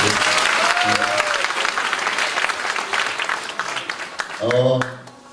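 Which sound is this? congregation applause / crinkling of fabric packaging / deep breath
congregation applause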